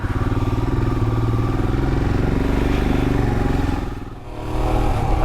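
A 2021 Royal Enfield Himalayan BS4 motorcycle rides off with a steady, throbbing single-cylinder engine note heard up close. The note dips briefly as if shifting gear, then picks up again.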